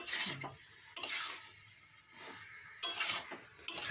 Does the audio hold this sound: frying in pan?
yes